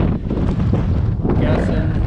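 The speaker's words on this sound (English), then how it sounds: "Winds are pretty consistent, you know, probably 15," Gusty wind of around 15 knots buffets the microphone on the sailboat Tally-Ho at sea in chilly rain, a loud, steady roar that surges slightly throughout.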